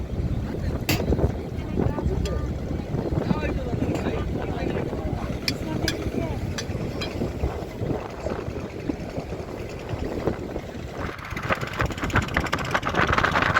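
A houseboat pulls away on Tanguar Haor, its engine rumbling and water churning continuously up close, with wind buffeting the microphone throughout.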